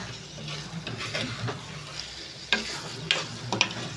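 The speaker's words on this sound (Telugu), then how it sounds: "దగ్గర ఉండి అయితే తిప్పుకుంటూ ఉండాలండి ఈ నువ్వుల పొడి ఏమవుతుందంటే మాడిపోతుంది" Sesame powder is stirred in a pan with a spatula, giving a soft, low dry scraping and faint sizzle. Three sharper scrapes or taps stand out near the end. The sound is quiet, close and wordless.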